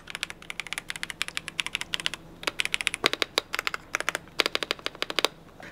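Typing on a KZZI K75 Pro 75% mechanical keyboard: a steady run of crisp, close key clacks in quick irregular bursts, with a few brief pauses and no talking.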